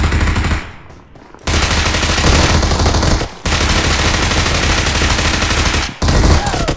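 Loud, sustained automatic gunfire from a battle royale video game rattles in long dense bursts, cut by brief silent gaps, close and dominant with no talking.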